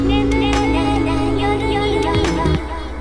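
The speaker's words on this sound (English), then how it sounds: "If you want reverb and you want a bit of delay, you can do that" A sung vocal processed with reverb and delay in FL Studio rings out over a low, bass-heavy backing, its sustained notes trailing into echoing tails before the sound drops away near the end.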